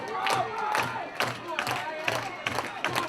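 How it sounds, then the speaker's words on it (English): A wrestling arena crowd roars and cheers in surging waves during a near-fall kickout at a Grand Championship match, loud and continuous with rhythmic chant-like pulses and no voices talking over it. "This crowd has come to life in ways I've never seen before."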